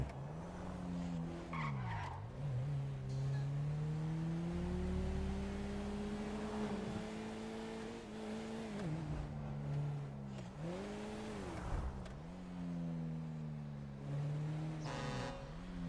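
Truck driving in GTA 5, its engine drone rising and dipping with throttle changes, with tire squeal and skidding at several points, continuous and fairly loud with no talk.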